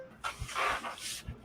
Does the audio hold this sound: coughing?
no